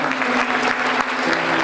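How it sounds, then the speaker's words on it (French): A church congregation at a Paris revival rally applauds, loud and dense clapping filling the room steadily, with a faint sustained musical tone running underneath. "Est-ce qu'on peut applaudir le Seigneur?"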